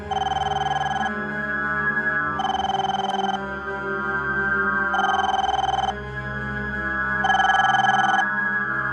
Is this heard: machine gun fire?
no